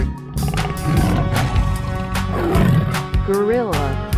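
A tiger roars loudly in a 3D animal slide video game, growling bursts over busy game music, with a voice talking briefly.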